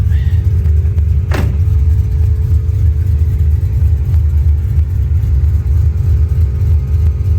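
Mercedes wagon engine droning steadily while driving, a loud, close low hum throughout, with one brief sharp rising squeak early on.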